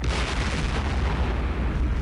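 Artillery fire in the Campaign Series West Front wargame rumbles as a dense, continuous low boom, loud and sustained with no clear separate shots.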